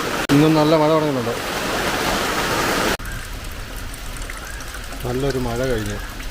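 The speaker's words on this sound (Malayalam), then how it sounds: "ഇന്നും നല്ല മഴ തുടങ്ങുന്നുണ്ട്." Heavy rain pours down in a steady, loud hiss of broadband noise around a home, continuing throughout while a person talks over it at the start and end.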